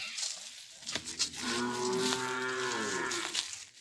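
Cattle moo in a corral on a farm, with one long, loud, drawn-out low call near the middle and shorter lowing sounds around it, heard alone without speech.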